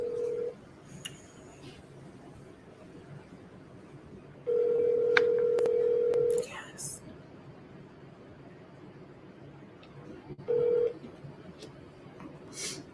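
A telephone call goes unanswered: a loud steady tone sounds for about two seconds, followed later by a shorter repeat, with a few quieter beeps and a soft voice saying a single word in the background.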